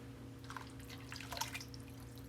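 Heavy cream mixed with milk poured into a crockpot, a soft trickling and splashing stream over a low steady electrical hum, quiet and close, with no talk.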